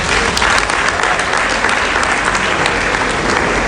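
Loud, dense applause from a seated audience at a political symposium at the University of Nigeria, Nsukka, with steady clapping filling the whole stretch and no speech over it.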